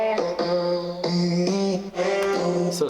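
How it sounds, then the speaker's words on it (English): A reworked chorus lead vocal chop from a song plays as a chain of chopped, pitched vocal notes, each a short sung syllable shifting in pitch in a steady rhythm, dense and continuous throughout, with no talk over it. "this chorus, like lead, vocal chop, whatever you want to call it"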